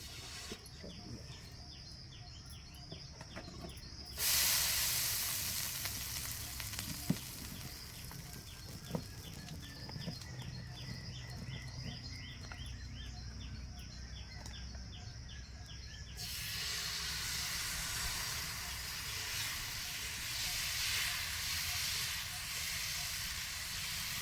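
A plain dosa roasts on a pan with a faint, continuous sizzling hiss that grows brighter at times and carries on steadily throughout.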